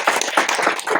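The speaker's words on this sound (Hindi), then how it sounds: "तो हम दोनों के लिए ताली बजवा दें।" Close, brisk clapping from an audience at a talk, several sharp hand claps in quick uneven succession over about a second.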